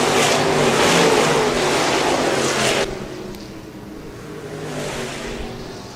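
Stock cars race at Park Jefferson Speedway, a loud close roar of several engines at full throttle that drops suddenly to a lower, more distant drone as the pack moves away.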